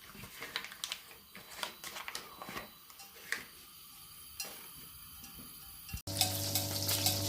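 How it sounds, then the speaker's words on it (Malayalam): Butter melting in a heated pan while cooking ghee rice, soft crackling sizzle with small ticking pops and a few utensil clinks, ending in a brief louder burst. "പാത്രം ഒന്ന് ചൂടായിട്ട് ഒരു പീസ് ബട്ടർ നമുക്ക് അതിലേക്ക് ഇട്ട് കൊടുക്കാം."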